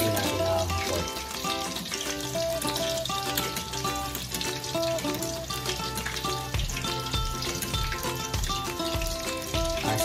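Pork-stuffed tofu fries toward golden brown in hot oil, a continuous bubbling sizzle heard under prominent melodic background music throughout.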